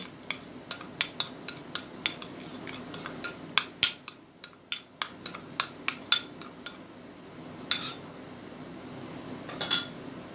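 A spoon clinks against a bowl while stirring a papaya face mask, a string of light, bright taps in a steady rhythm with short pauses, close and clear, with no talking.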